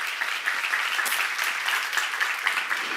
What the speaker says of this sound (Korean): 하나님께 박수 한번 쳐.